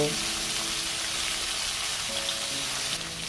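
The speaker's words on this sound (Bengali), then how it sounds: "এবার কেটে রাখা টমেটোটাকে দিয়ে দিলাম, দিয়ে একটু নাড়িয়ে নিলাম" Chopped tomato frying in a pan for a light Bengali fish curry, a loud dense sizzle heard up close and steady for a few seconds, with no talking.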